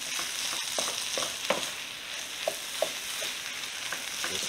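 Butter is stirred into potatoes in a hot pan, giving a soft, steady sizzle broken by light scrapes and clicks from the utensil. No one speaks.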